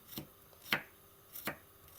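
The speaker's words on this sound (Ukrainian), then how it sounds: "Нарізаю чесник ось такими кружечками." A knife cuts through garlic on a board, making three crisp chopping taps at a slow, even pace.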